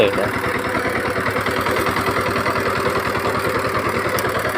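A 130 Di power tiller churns a flooded field for puddling, its engine chugging in a steady, close, loud rhythm that holds even throughout with no pauses.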